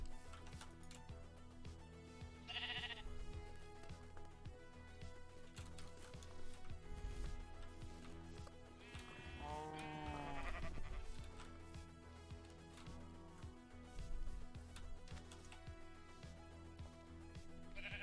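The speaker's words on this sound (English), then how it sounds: "This is an auto sheep farm. Because dispensers with shears in them now shear sheep." Sheep in a Minecraft auto sheep farm bleat several times over a quiet background of ticking machinery, with one longer wavering bleat in the middle and shorter calls before and after.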